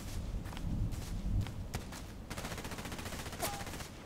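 Enemy gunfire in a shooter game pops in quick, faint rapid bursts behind nearby footsteps, the shots clustering toward the end, distant and low in level with no talk over them.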